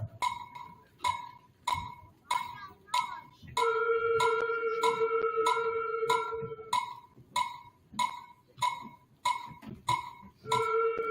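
A metronome ticks steadily at an even moderate pace, and a sustained flute tone from a head joint sounds over the clicks for a few seconds midway.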